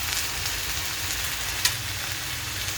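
Long-sliced onions, eight to ten of them, fry in oil for kheema, giving a steady, even sizzle throughout with one small clink partway.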